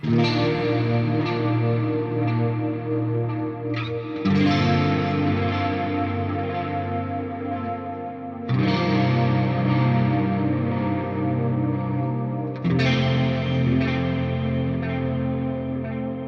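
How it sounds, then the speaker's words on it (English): An electric guitar through a Line 6 Helix preset with a chorus pedal plays sustained chords shimmering with chorus, each chord ringing out before the next is struck, about four in all. "it's actually just there because there's a chorus pedal in the preset"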